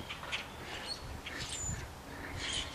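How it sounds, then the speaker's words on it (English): Blackbirds squawking in a tree, with short harsh calls and chirps scattered irregularly over soft background noise at a fairly low level. "Squawk apparently means step out of my territory."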